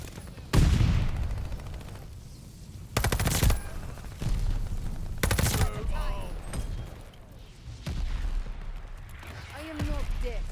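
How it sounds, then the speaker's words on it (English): Incoming mortar shells and gunfire in the video game Call of Duty: Vanguard, several loud booming blasts at intervals over a steady battlefield rumble, with game voice lines in between. "They're sending mortar shells!"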